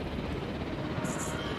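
A helicopter whirs in the Jurassic World video game, a short burst of continuous rotor and engine noise that stays steady and fairly close throughout.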